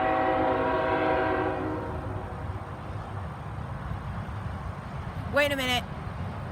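Freight train hauling coal hoppers on the Florida S-Line passes close by with a steady rumble and a brief horn blast near the end, while a person speaks briefly at the start.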